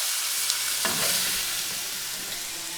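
Chicken pieces frying in a pan for keto korma, a loud, dense, continuous sizzle close up with a brief stirring scrape near the start, no talking.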